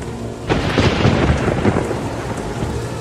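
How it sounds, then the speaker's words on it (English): A thunderstorm breaks with a loud rumble of thunder over heavy, steady rain that keeps pouring as the roll fades, with nobody speaking. "And the rain was on the earth 40 days and 40 nights."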